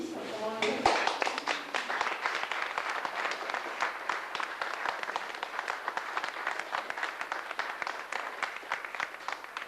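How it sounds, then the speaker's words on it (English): An audience at a twinning ceremony between Athenry and Quimperlé claps in steady, sustained applause that starts suddenly and continues throughout at moderate distance. "Je voudrais qu'on les applaudisse."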